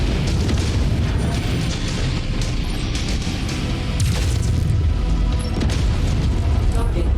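Repeated booming explosions and crashing impacts from MechWarrior 5 fill the whole stretch, loud and steady with little pause between them.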